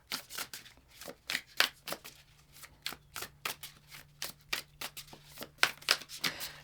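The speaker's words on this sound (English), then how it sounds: "Let's pull more cards." Tarot cards shuffled and pulled by hand, a rapid run of crisp riffling snaps in close succession, steady and near, with no talk over them.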